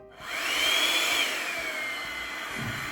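A Revlon hair drying brush runs on its low setting with a steady, close, loud whooshing airflow and motor whine that holds constant throughout.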